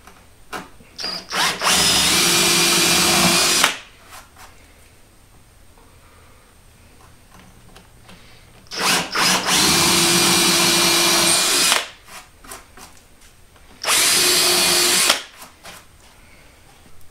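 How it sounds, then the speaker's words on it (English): A power drill bores into wood for lag bolts while building a shop storage cart, in three loud, sustained runs of about two to three seconds each, separated by quieter pauses with small handling clicks. "just give them a little push so that it'll set the drill bit."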